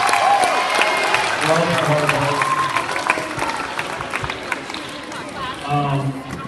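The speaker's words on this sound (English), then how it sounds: "So let's give your parents a round of applause" A crowd applauds for the parents at a sixth-grade awards day, a broad, sustained clatter of clapping with a voice talking over it throughout.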